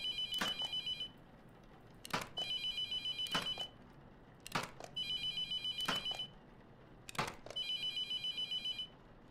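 An unanswered phone rings in a repeating electronic trill, with bursts about every two seconds, each opened by a sharp click, fairly clear over a quiet background.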